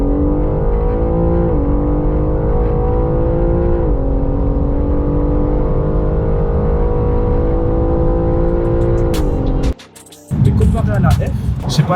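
Loud, steady engine drone of a BMW M4 CS driving at speed, with a sustained tone that climbs gradually and steps up at each gearshift, running for about ten seconds before a brief drop and a noisy burst.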